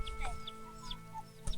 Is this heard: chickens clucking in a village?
yes